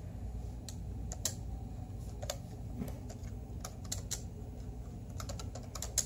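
Keys clack on an IBM ThinkPad 760 laptop damaged by a leaking NiCd battery, a close, uneven run of sharp taps and short bursts over a constant low hum.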